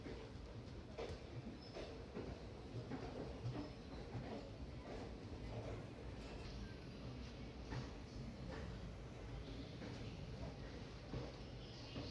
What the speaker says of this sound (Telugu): చూడండి, ట్రైన్ అయితే మూవ్ అయిపోయింది ఫ్రెండ్స్.